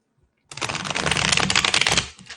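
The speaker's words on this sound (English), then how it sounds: "I'm shuffling this deck for y'all." A deck of playing cards is shuffled up close, with a quick dense burst of riffling clatter lasting about a second and a half, then stopping.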